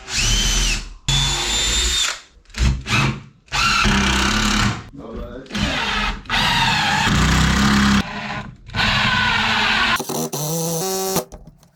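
A power drill whines loudly in repeated bursts, starting and stopping as lag screws are driven into a wall, with short quiet gaps between runs.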